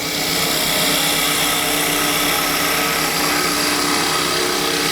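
A wood lathe spins a piece of scrap wood being turned into a spatula, giving a loud, continuous whirring hum with the tool cutting in steadily, close up and without speech.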